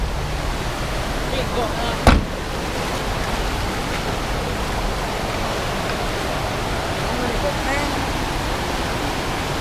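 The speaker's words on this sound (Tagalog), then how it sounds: "Umaapaw yung kanilang ilog ganyan guys." A river swollen by heavy rain rushes in a steady, dense roar that fills the whole clip, with one sharp knock early on. A voice speaks faintly under the water.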